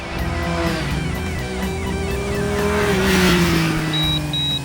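A 2014 Triumph Street Triple motorcycle being ridden, its engine note rising and falling steadily and loud throughout, with a sustained revving drone and shifting pitch as it accelerates.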